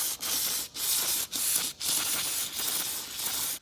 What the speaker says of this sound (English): So I'm gonna go ahead and clean off all this oil here. Just got some brake clean.